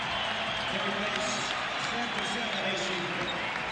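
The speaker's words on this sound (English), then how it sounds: "And a long ovation from this crowd for Derek Harper." Arena crowd at a 1997 NBA game, Dallas Mavericks at New York Knicks in New York, applauding in a long steady ovation for a returning player. The roar is dense and sustained, with a commentator speaking over it.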